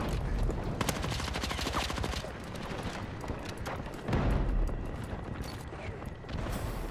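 Rapid gunfire bursts in the Battlefield 6 video game rattle continuously through the whole stretch, loud and dense, with a heavier burst near the middle and some voice mixed underneath.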